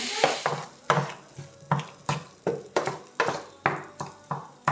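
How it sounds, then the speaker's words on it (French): Spinach sizzles in a frying pan while being stirred, giving a quick regular rhythm of crackling, scraping bursts, close and fairly loud, with no talk. "Donc là on met les épinards dans la poêle"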